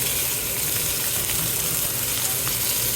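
Little smokies sausages sizzling in hot oil in a preheated pan, a steady loud crackling hiss with no talking.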